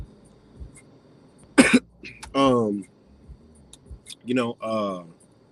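A sharp burst of coughing stands out against quiet outdoor background, followed by short voiced sounds like throat clearing or brief talk.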